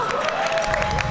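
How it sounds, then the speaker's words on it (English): An audience claps and cheers for a band at a college revue show, a dense burst of applause close by, with crowd voices mixed in. "Another round of applause for newest Kellogg band,"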